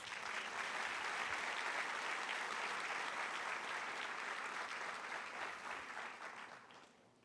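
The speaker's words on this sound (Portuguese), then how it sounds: "Dê um aplauso ao Senhor Jesus" Church congregation applause, a broad, continuous wash of clapping that holds steady for several seconds before tapering off toward the end, with no speech over it.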